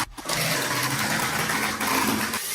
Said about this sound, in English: Then I pre-drilled, countersunk, and screwed the 2 sheets of plywood together from underneath.